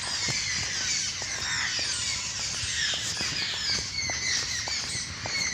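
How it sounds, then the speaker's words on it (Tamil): Birds chirp and call loudly along a roadside on a morning walk, a dense, continuous high twittering chorus with scattered sharper clicks beneath it. "எப்போ இங்கே பயங்கரமான பறவைகள் சத்தம்"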